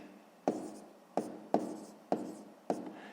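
A math solution written by hand on paper, five separate scratchy pen strokes spaced roughly half a second apart, close and quiet with no talking.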